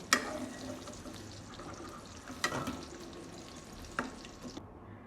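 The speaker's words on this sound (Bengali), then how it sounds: "এখন ভেজে নিচ্ছি। দেখেন, করলাগুলো লালচে হয়ে গেছে" Bitter gourd pieces fry in hot oil with a faint, steady low sizzle, punctuated by a few sharp clicks and clatters from stirring in the pan.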